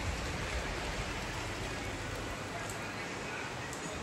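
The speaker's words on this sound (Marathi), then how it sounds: "आज सकाळपासून पाऊस चालू झालेला आहे" Steady rain falls outdoors on a rainy day, a dense, even hiss that holds loud and unbroken throughout.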